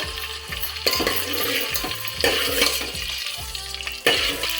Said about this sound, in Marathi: अख्खा घेतलेला गरम मसाला मी ह्याच्यामध्ये घालते।